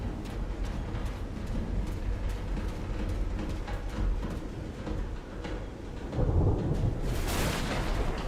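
Thunderstorm in the Call of the Sea video game, with steady rain beneath deep rolling thunder and a louder crack and rumble building near the end, continuous and fairly close.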